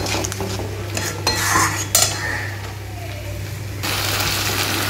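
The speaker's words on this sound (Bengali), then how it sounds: "বন্ধুরা, এটা তো প্রায় তেলটা ছেড়ে এসছে, আমি এর মধ্যে আলুগুলো অ্যাড করে দেবো। বন্ধুরা, ভালো করে কষাচ্ছি" A metal spoon scrapes and clinks against a pan as potatoes are stirred and sautéed with spices in hot oil, with a soft sizzle underneath and louder scraping bursts early on.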